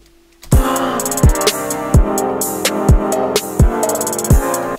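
Beat playback with a synth melody over a steady kick drum and cymbal, loud and dense: after a brief quiet start, kicks thump at an even pace under bright cymbal splashes and a sustained melodic line.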